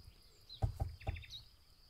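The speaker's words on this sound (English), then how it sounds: "You hear that? It's a chickadee." Chickadee calling outdoors, a few short, faint chirps and quick repeated notes, distant and soft over a quiet background.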